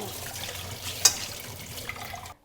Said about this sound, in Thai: เดี๋ยวเราก็ไป ล้างถ้วย ล้างแก้ว